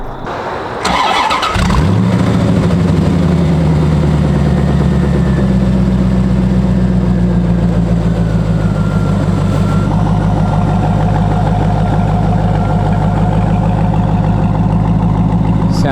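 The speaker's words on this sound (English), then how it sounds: "About to do a startup, make sure there's no leaks" A 1994 C4 Corvette with an LT1 engine, just fitted with a new thermostat, cranks briefly and then fires into a loud, steady, deep idle that continues close by until the end.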